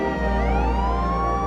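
Loud, continuous emergency siren wailing with a slowly rising tone, heard close up and unbroken, tied to a hydrogen sulfide gas exposure incident during geothermal well bleed-off work.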